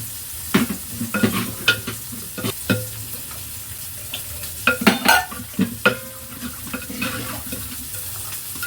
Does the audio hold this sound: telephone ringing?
no